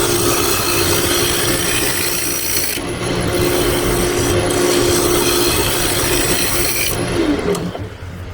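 A hand scraper works over a wooden piece with a continuous, close, dry rasping and scratching, steady and loud throughout, with brief pauses in the upper texture.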